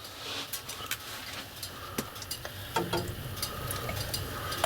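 An egg with salt and pepper cooks in a non-stick pan over high heat at a wild campsite, giving a soft steady sizzle with scattered scrapes and ticks close by, no talking.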